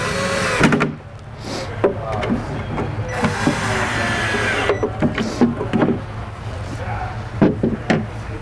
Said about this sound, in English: We'll go ahead and screw that in, and then reattach the 2 from underneath.